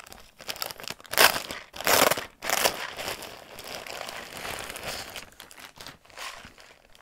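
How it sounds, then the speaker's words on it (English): Plastic packaging crinkling as a mail order is unwrapped, loud close rustles and crumples in irregular bursts that continue throughout, with no speech. "Just excuse me for all the crinkling."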